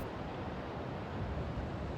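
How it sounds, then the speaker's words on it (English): Ocean waves strike the cliffs below a rocky outcrop on Terceira island in the Azores, a steady, dense roar of surf with no distinct breaks, fairly loud and continuous. "observe the waves hitting the cliffs beneath us"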